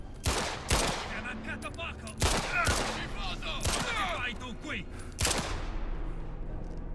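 Gunfire in the video game Indiana Jones and the Great Circle, with several loud bursts of shots spaced across the scene over steady game ambience, and a voice talking briefly among them.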